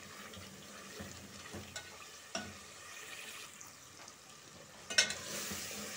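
Masala for beef kofta curry frying in a pan, a faint, steady sizzle with occasional soft scrapes and a sharper clink of the spoon toward the end.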